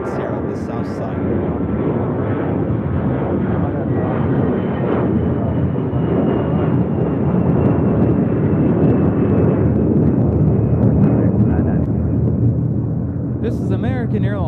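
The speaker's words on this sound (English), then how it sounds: "This is American Airlines Flight 990 taking off to Atlanta on an A321" An American Airlines Airbus A321 takes off at LAX, a loud, sustained jet engine roar that fills the whole stretch and slowly shifts in tone as it climbs away, with a brief sharper sound near the end.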